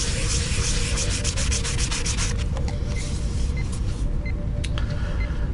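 Sandpaper rubs down a primed and filled prop Star Trek Voyager science tricorder body in a run of quick repeated strokes, close and steady, over a low background rumble.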